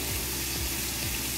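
Onion for shrimp chow mein cooks in a hot pan with a steady, close hiss of frying, broken by a few soft stirring scrapes.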